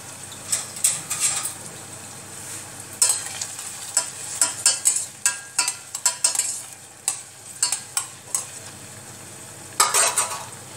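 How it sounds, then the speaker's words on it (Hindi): Onion frying in oil in a pan to make homemade hair oil, a low sizzle under repeated scraping and clinking strokes of a spoon against the pan, irregular and close, with no voices. "इस प्याज को हमें तब तक गर्म करना है इसमें जब तक ये पूरी तरीके से काला ना हो जाए"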